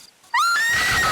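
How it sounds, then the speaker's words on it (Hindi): A woman in a Hindi TV horror serial lets out a long, loud, high scream that starts suddenly after near silence and holds steady to the end. "चीखने की आवाज आई"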